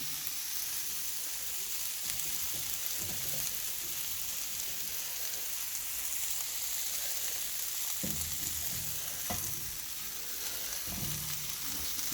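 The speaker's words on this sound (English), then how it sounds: "Just sauteing your vegetables for your peas and rice." Vegetables sauteing in a pan over a medium-low fire for Bahamian peas and rice, a steady close sizzle with occasional soft stirring scrapes.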